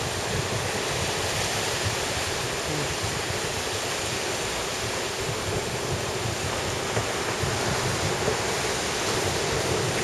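Waves build near a marina, a loud, continuous rushing wash of churning water with steady wind noise buffeting the microphone and no clear breaks between surges.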